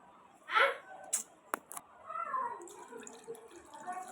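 Water poured into a cooking pot in a home kitchen, a brief splashing pour followed by a few clinks and a low bubbling, fairly close.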